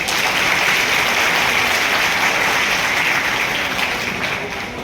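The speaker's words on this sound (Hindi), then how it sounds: "इसके लिए आप सब अपने लिए एक जोरदार ताली बजाएं" An audience at a university Mission Shakti certificate distribution and cultural program applauds in a steady, dense wash of clapping that holds for several seconds and fades slightly at the end.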